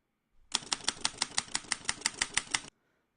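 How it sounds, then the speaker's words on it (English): Rapid typewriter sound effect, about a dozen sharp key clacks in an even rhythm, loud and close, ending abruptly with no other sound. "why not add a typewriter sound at the end as well?"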